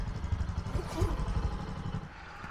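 A Bajaj Boxer motorcycle ridden slowly, its single-cylinder engine giving a close, uneven putter with a faint clatter that fades slightly toward the end, no voices over it.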